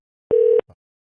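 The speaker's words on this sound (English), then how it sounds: "I've never seen Google Voice do that. Make a ringing sound and then it's busy." A single steady phone tone through a Google Voice call, loud and clean for about a third of a second, followed by a faint short blip, with no talking.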